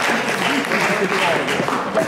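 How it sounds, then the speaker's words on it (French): A slam poetry audience claps for Quentin in a short, steady burst of applause, with voices mixed in under the clapping. "On l'applaudit."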